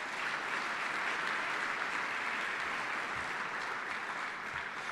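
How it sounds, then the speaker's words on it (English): An audience applauds for a family at a rally, with sustained, dense clapping from a large crowd that holds steady and loud throughout and has no break. "let's give a round of applause to my family"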